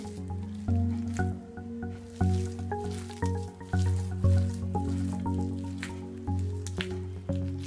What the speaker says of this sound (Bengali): আলুটা একটু ভালো করে লবণ দিয়ে মাখিয়ে নিতেছি